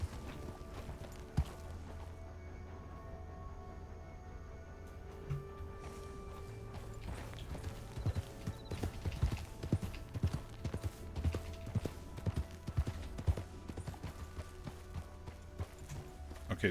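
A horse's hooves clop along at a walking pace in Red Dead Redemption 2 on a ranch, steady and fairly close, over quiet game ambience, with the rhythm growing busier toward the end.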